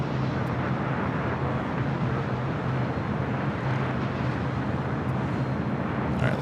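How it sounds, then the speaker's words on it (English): A heavy Emirates Airbus A380 spools up for takeoff on runway 7 right at LAX, giving a steady, loud broadband jet roar with a low hum that holds unbroken throughout, distant and rumbling with no voices. "A380 Super now preparing for takeoff on the south side at 7 right"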